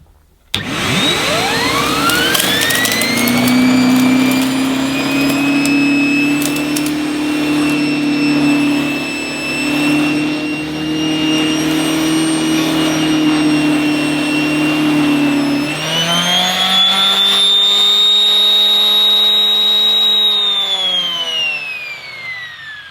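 A TurboCat EX turbine powerhead runs on a vacuum cleaner, a loud, steady, close whining roar that spins up at the start, holds, then climbs higher in pitch for a few seconds before easing down.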